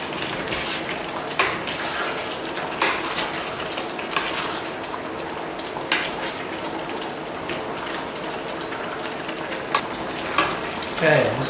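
Ingredients for a Cantonese lamb stew stir-fried in a pan of sauce coming to the boil, a steady close sizzle with scattered scrapes and clinks of utensils against the pan throughout.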